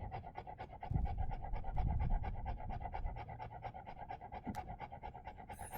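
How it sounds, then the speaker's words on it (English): A dog pants heavily and rhythmically close by, a steady run of quick breaths through the whole stretch with no talking. "Sorry, by the way, about the heavy breathing behind me."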